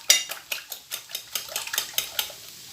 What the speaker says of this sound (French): Alors, on mélange les œufs.